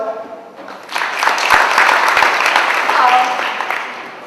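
An Ignite Pune talk audience claps for a speaker introduced as a farmer turned software engineer. The applause swells after a quiet start and stays full, with a few voices carrying over it.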